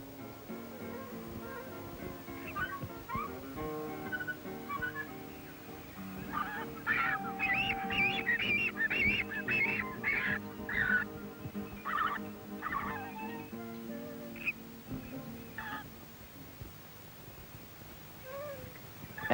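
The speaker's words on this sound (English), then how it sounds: "Some distance away is a colony of frigate birds." A colony of frigate birds calling from some distance, a chorus of honking, bleating cries that swells and fades in bursts over a low background.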